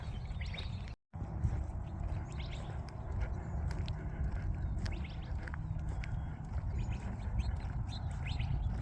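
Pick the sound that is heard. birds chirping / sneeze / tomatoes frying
birds chirping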